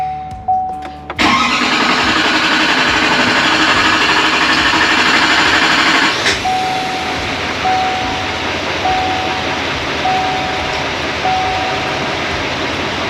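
A 2022 Chevy 2500HD turbo diesel cranks briefly, then catches and roars to life, settling into a loud, steady rumbling idle close by while a chime dings repeatedly.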